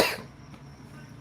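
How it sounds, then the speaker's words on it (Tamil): A single sharp cough from someone with a persistent cough and chest pain, loud at the onset and then trailing into quiet room tone. "இருமல் மட்டும் நிற்க மாட்டேன்னுது"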